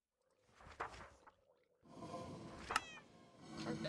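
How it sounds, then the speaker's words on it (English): A video game cat gives a couple of short meows, then a longer stretch of mewing and yowling with a soft whoosh, fairly quiet and close. "Wait, why do I hear, where's the cat?"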